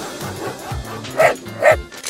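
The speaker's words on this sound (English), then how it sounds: "just one dog chasing five armed policemen." A dog chasing five armed policemen barks and yips in short bursts, with two louder barks close together near the end, loud and near.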